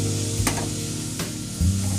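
Mustard paste goes into a hot pan for dab chingri, bringing a steady, close sizzle of frying with short stirring scrapes over it.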